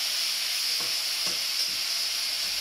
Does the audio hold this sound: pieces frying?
yes